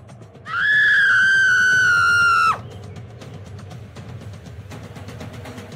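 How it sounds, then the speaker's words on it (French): A mother screams from inside a home, one sustained high cry of about two seconds that cuts off sharply, followed by faint background noise. "Mais, c'est la voix de maman? Pourquoi elle crie?"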